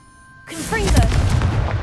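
A Confringo spell in Hogwarts Legacy bursts into a sudden loud, rumbling blast after a brief quiet moment, sustaining a booming, crackling roar to the end, with a voice briefly over it.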